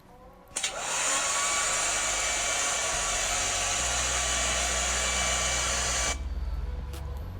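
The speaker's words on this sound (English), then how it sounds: "That's a hair dryer." Hair dryer switched on with a small click, blowing a steady, loud whooshing hiss for about five and a half seconds, then cut off as a low hum lingers briefly.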